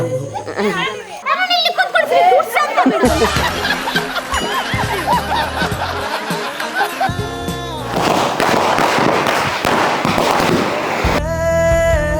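Sharp crackling bursts of Diwali firecrackers go off in rapid clusters amid children's chatter and laughter, loud and close, with a dense stretch of popping near the end.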